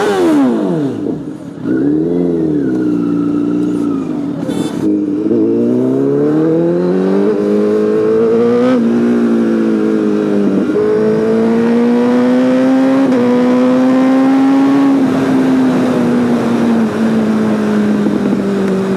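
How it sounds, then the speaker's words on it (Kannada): A BMW S1000RR sportbike engine starts and settles into a loud, close idle, then rises through repeated revs with climbing pitch, a continuous throaty roar throughout and no voices. "ಓಕೆ, ನಮ್ಮ ಗಾಡಿನ ಸ್ಟಾರ್ಟ್ ಮಾಡೋಣ, ಇವಾಗ ಮಾಡೋಣ"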